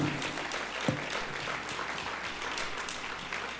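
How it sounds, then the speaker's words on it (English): Audience applause at a mayor's State of the City address, a steady wash of clapping held at an even level throughout with no talk over it. "Please applause for that"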